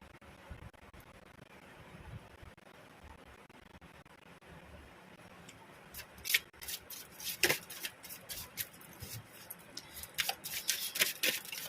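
Oracle cards are shuffled by hand in a quiet room: faint rustling at first, then a run of crisp riffling bursts and snaps that gets louder and denser toward the end, with no talk over it.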